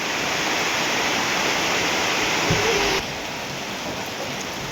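Rain falls steadily at Mahachai in Thailand, a broad, even hiss of drops that continues without a break and grows slightly quieter partway through.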